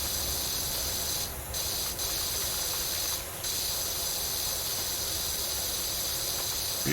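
A pressure washer on a soft spray setting in Powerwash Simulator gives a steady, continuous hiss that barely wavers, with a couple of brief dips, and no voices over it.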